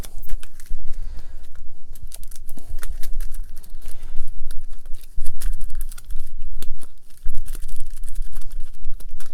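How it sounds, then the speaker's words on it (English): Dense, rapid crackly riffling and snapping of Warhammer Quest dungeon cards being shuffled close up, repeated bursts continuing throughout with no talking. "All right, so we're going to shuffle the dungeon cards."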